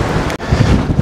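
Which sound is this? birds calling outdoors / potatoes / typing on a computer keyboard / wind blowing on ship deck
wind blowing on ship deck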